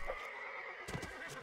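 A horse neighs in a medieval combat video game, a short whinny with faint hoof clip-clop, fairly quiet and heard alone.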